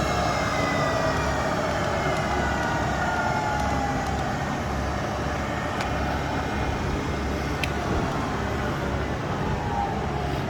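A Microcut 5000VS 5HP vertical milling machine spindle runs in low gear at about 360 rpm, giving a steady, loud mechanical whine and hum with a few faint ticks.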